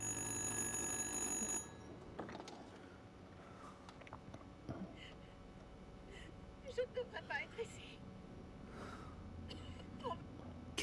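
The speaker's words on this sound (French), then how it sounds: "Le téléphone, il n'a pas de branchement et le truc, il sonne tout seul, quoi." In the video game Little Hope, an unplugged telephone rings by itself, a shrill continuous bell for the opening second and a half before cutting off into quiet ambience with scattered voices and game sounds.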